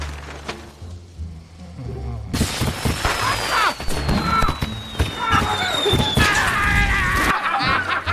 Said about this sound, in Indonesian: di dalam kamar motel mereka menyalakan petasan yang sangat banyak